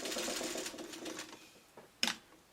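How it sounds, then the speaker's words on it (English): A sewing machine running steadily close by, stitching a quarter-inch seam around the outside edge of a traditional Dresden quilt block, then a short sharp clack as it stops. "we're just going to stitch around the outside edge"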